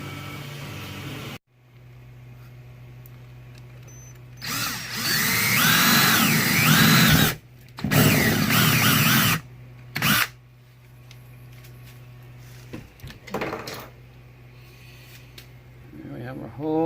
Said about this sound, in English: So we'll get the drill loaded up and ready to go.